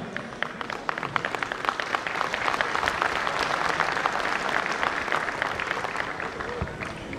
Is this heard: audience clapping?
yes